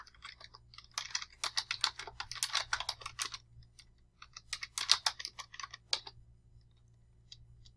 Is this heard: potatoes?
no